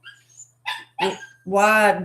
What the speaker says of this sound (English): You hear a dog in the background